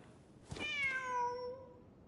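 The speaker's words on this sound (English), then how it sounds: "Wait, there it is! The cat!" A single cat meows in the video game Genshin Impact, a clear drawn-out meow with a falling pitch, heard alone over faint background ambience and fairly close.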